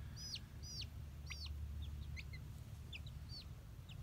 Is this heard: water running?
no